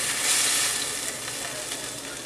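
Steak and peppers sizzle steadily in a hot pan, a close, continuous hiss and crackle with slight swells and no talking.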